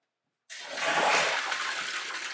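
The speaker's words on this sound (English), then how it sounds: "simulate a broken sprinkler pipe by opening the main drain to flow water" A sprinkler system's main drain is opened to simulate a broken pipe, and water suddenly gushes out in a loud, steady, close-up rush that continues without pause after a moment of silence.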